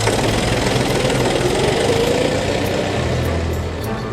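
Tractor engine in Turkey running steadily nearby with a rough, knocking low chug that stays loud and constant throughout, with no voices.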